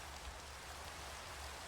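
Steady rainfall in the Minecraft video game, a soft continuous hiss of drops with no breaks, faint and even throughout.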